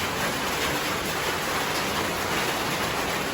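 Heavy rain pours steadily and loudly in a dense, unbroken hiss, with no pauses or voices across the whole stretch.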